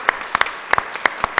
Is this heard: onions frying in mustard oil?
no